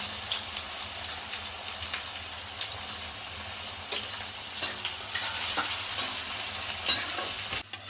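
Three large onions frying in oil in a kadai for beresta, a constant hissing sizzle with occasional sharp scrapes and knocks of a spatula, moderately loud and with no talking.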